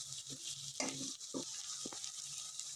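Masala paste for a fish curry fries quietly in a pan, with a soft background sizzle broken by a few scraping stirs of a spoon.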